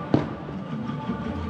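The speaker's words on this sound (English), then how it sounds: "We have fireworks." Fireworks burst over Disney World's Magic Kingdom with one sharp, loud pop followed by softer crackling and a rumbling hum of the crowd and ride, heard from nearby.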